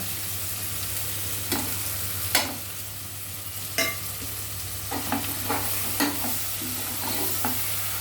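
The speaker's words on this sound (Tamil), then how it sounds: "இப்போ இங்கே வந்து தக்காளி வெங்காயமாக வதங்கிட்டு இருக்கு" Tomatoes and onions sauté in a pan for a vegetable biryani, with scattered stirring scrapes and soft sizzling over a steady low hum, close and fairly quiet, with no talking.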